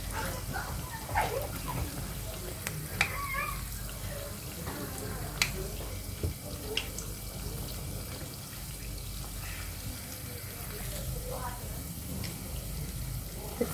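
Ghanaian puff puff (bofrot) dough frying in a pot of hot oil, a steady close bubbling sizzle with scattered crackles and pops running throughout.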